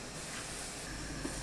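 Washed bean sprouts boil in 200 ml of water in a covered pan over high heat, giving a steady, soft hiss of steam and bubbling that stays even throughout, with no voices.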